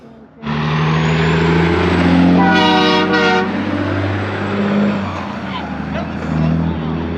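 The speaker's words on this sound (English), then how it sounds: "That was a damn train horn" A loud, sustained train horn blares close by, its stacked harmonic tones holding for several seconds, with a brief higher blast in the middle and rumble underneath.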